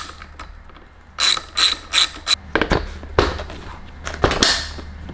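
Ratchet tightening servo motor bolts on a 2019 Kawasaki Ninja ZX-6R motorcycle, with quick bursts of clicking pawl strokes in short groups, close and crisp, then a few heavier clacks.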